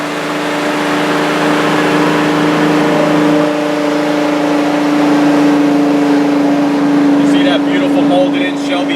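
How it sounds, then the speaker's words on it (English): A 1965 Mustang Cobra resto-mod's engine drones loudly and steadily through a Flowmaster exhaust with a deep, throaty tone, rising slightly in pitch as it revs, close and continuous. "I don't know if you can hear the tones coming out of the exhaust"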